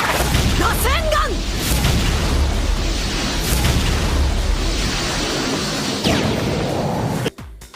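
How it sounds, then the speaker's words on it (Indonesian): A film explosion, with an energy blast wrecking satellite tower buildings, makes a loud sustained roaring rumble under someone narrating, then ends abruptly. "Energi itu pun langsung ngancurin gedung-gedung menara satelit yang ada di sana"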